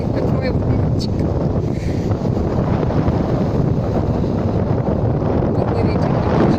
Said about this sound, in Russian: Был бы ветер немножечко меньше